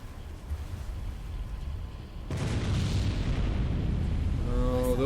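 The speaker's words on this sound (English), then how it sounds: "Hydrophone operator is reporting some depth charges" Depth charge explosions in the submarine game Silent Hunter III, heard as a low rumbling boom that swells suddenly midway and stays loud, with a faint ringing tone near the end.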